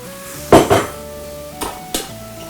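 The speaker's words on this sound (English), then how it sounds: "I'm going to put that in the pan. Melted. Okay. Toss your apples in." Apples tumble into a pan of melted butter: two close, loud clattering impacts, then two smaller knocks a second later, over a faint steady hum with no talk.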